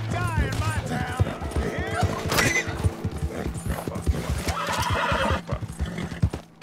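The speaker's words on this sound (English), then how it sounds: "Stop shooting my horse, bro." A horse in Red Dead Redemption 2 neighs and whinnies loudly while galloping hooves clip-clop in a steady rapid rhythm, with someone talking over the action throughout.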